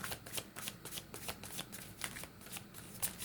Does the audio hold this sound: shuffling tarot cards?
yes